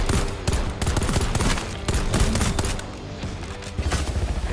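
Rapid bursts of automatic gunfire from the tactical shooter game Exoborne crackle in quick succession, loud and close, with no talk over them.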